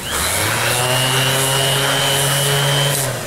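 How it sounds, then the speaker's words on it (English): A power sander works a corner of a piece to soften its stepped edge, giving a loud, continuous whirring drone with a steady motor hum throughout. "And now after I sand it for a while,"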